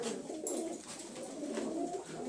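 Pigeons coo softly and continuously in a low, throaty murmur, fairly quiet and close, with no voices.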